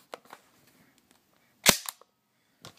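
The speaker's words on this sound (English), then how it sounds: "pull down the bolt release and it goes forward" The bolt of an A&K Masada ACR airsoft electric rifle snaps forward on release, giving one sharp metallic clank between faint handling ticks and a few quieter taps.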